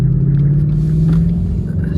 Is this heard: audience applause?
no